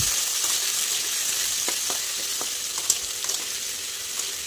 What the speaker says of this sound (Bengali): আলুগুলো ভাজতে দিয়ে দিলাম